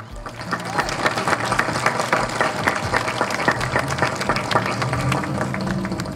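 Crowd applause at a mass wedding ceremony in the city of Las Choapas, steady and dense throughout with a busy background hum of crowd and voices.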